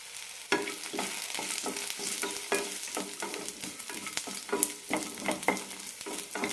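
Grated coconut stirred and heated in a pan for banana flower curry, after onions were sautéed: a steady low crackle with repeated scraping strokes of a spoon, close up, no talk.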